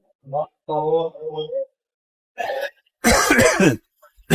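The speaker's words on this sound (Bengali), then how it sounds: "এটার স্বাদ খুবই খুবই খুবই তিক্ত যার কারণে আমার খুব কাশি আসছে" A person coughs and clears their throat after tasting bitter Himalayan mad honey from Nepal, with a few short voiced sounds first, then a harsh, loud cough burst near the end.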